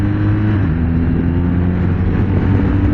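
A BMW R 1250 RT motorcycle from 2024 hums steadily with a low engine drone as its quick shifter drops into neutral between first and second, the tone holding constant and loud with no clear shift clunk.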